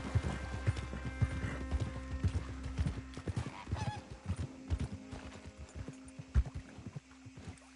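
Hooves of a galloping horse drum in quick rhythmic clip-clops in the Red Dead Redemption 2 video game, close and steady, over a low ambient hum.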